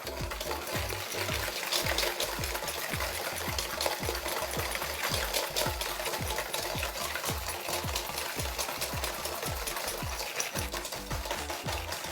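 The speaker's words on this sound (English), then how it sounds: "we're going to whisk these together just so we can get the dissolve going with the sugar and the salt" Whisk beating sugar and salt together in a bowl, a quick steady rhythm of scraping clicks running the whole time, close up.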